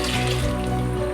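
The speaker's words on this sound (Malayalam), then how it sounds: "നമ്മൾ തയ്യാറാക്കി വെച്ചിരിക്കുന്ന 1-ാം പാൽ ഇതിലേക്ക് ഒഴിക്കുക." First coconut milk pours into a Kerala beef curry, a continuous liquid splash and gurgle heard close and fairly loud for about a second, with no talk.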